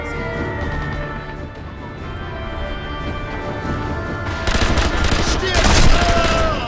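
Submachine gun fire in Sniper Elite V2, rapid bursts of shots crackling over a steady din and growing louder and denser toward the end.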